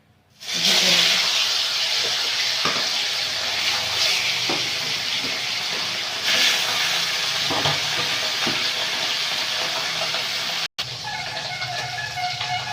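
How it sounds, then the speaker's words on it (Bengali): Pabda fish frying in a pan in a village kitchen, a loud, even sizzle that starts suddenly and holds steady, with occasional soft knocks and no speech. "পাগদা মাছগুলো ভেজে নেব"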